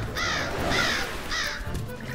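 Three harsh, loud crow caws in a steady rhythm, close to the listener, with no other voices around them.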